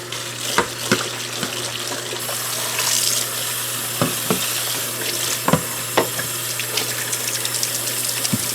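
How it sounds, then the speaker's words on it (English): Running tap water pouring into a kitchen sink while a bowl is washed, a steady close hiss of flowing water broken by scattered clinks and knocks of the bowl. "What I'm going to do is just wash this bowl real quick because it was in the cabinet"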